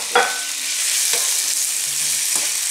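Chicken, about 250 grams, hits hot oil in a pan and sizzles steadily and up close, with a few soft stirring scrapes over the continuous frying hiss.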